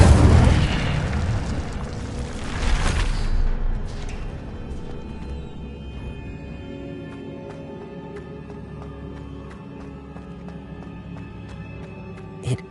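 Incendio fire spell from Hogwarts Legacy erupts in a loud booming burst at the start, with a second swell near three seconds, then fades into a low lingering rumble and faint game ambience.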